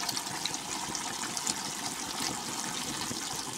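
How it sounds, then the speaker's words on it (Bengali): Lukewarm water is poured into a pot of cooking chicken, making a steady, close hiss of running liquid with no voices. "এখানে এখন কুসুম গরম জল দিলাম"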